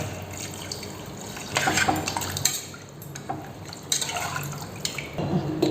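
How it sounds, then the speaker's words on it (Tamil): Water pours and splashes into a pot of chicken soup in uneven bursts, close by, with light metallic clatter and no talking. "தேவையான தண்ணி சேர்த்துக்கலாம்"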